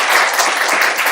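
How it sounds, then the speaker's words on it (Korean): Conference audience applauding a speaker at a tech event session, a short dense burst of many hands clapping, loud and close, with no voices. "큰 박수 부탁드립니다."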